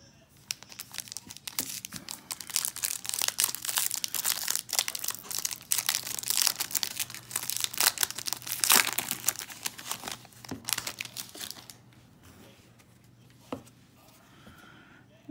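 Foil packs of Topps 2021 MLB baseball cards are torn open and crinkled nearby in dense, rapid rustling bursts that continue steadily before thinning out to a few scattered rips.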